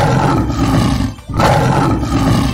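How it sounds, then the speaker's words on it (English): A lion's loud sustained roar in two long surges with a short breath between them, close and filling the clip, with no talking. "L for lion."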